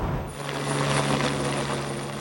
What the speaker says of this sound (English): The Metropolitan Police have scrambled a helicopter to try and track me down.